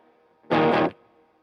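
A single short distorted guitar chord through an Orange Super Crush 100 amp with a touch of reverb, loud and gritty, cut off after under half a second with a faint tail.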